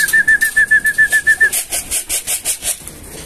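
Birds flutter and coo as they enter a trap, with a steady run of soft rhythmic pulses and a thin whistle in the first half, close and fairly loud.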